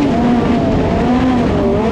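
Honda K20 Badger midget race car engine held on throttle, a loud, continuous, close-up roar with slight pitch wavering and no pauses.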